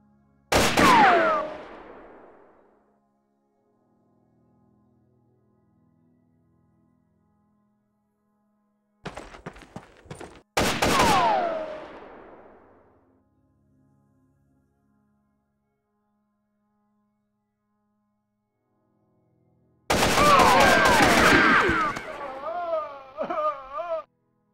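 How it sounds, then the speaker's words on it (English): Three separate bursts of WW2 gunfire in the turn-based tactics game Brass & Steel, each a sharp report with a ringing, whining tail, spaced far apart by long silences. "But fire a couple of rounds"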